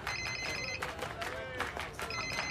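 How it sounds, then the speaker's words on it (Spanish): A mobile phone rings with a repeated electronic ringtone in short bursts, mixed under constant loud talk and crowd noise at a party scene. "Te está sonando el celular, Matías."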